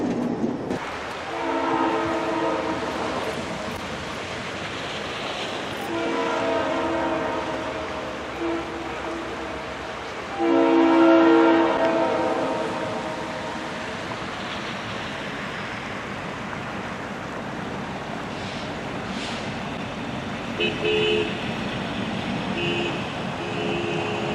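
Freight train hauled by locomotives HZRX 8420 and B&O 800 passes the Furnace Run Bridge, sounding its horn in several long blasts over a steady rumble of rolling cars, with the horn loudest near the middle.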